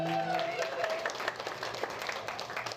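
Audience applause fills a comedy club, with a brief voice at the start before steady, dense clapping carries on throughout.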